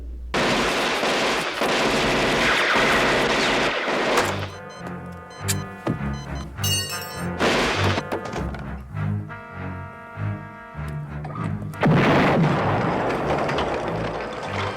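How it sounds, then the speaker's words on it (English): Gunfire in the film Dead Heat: bursts of shots and sharp impacts mixed with loud film score and effects, alternating dense clatter with rhythmic musical hits. "Roger exchanged gunfire with this dude."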